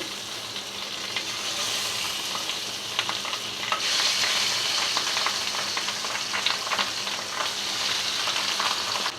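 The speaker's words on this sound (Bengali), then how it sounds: "একদিকে মাছ ভাজা হচ্ছে" Masala-coated pabda fish frying in oil in a pan, a steady, close crackling sizzle that grows denser partway through, with scattered spatter pops and occasional stirring scrapes.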